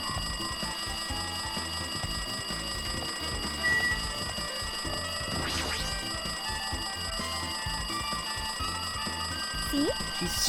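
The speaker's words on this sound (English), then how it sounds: "It looks like that phone is ringing." In the video game Danganronpa 2, a phone rings continuously with a bright, steady electronic trill over a low background score, sustained throughout with a few brief scratchy sounds in the middle.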